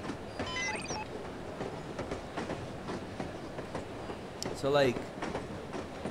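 A train rolls along in the No One Lives Forever video game with steady rumbling and clickety-clack wheel noise, and a brief squeal near the end, under someone talking.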